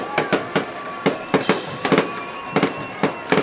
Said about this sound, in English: You hear the fireworks going off.